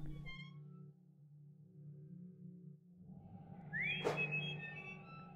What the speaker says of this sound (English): Oh, I hate the whistle noise.